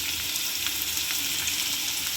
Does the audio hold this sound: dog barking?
no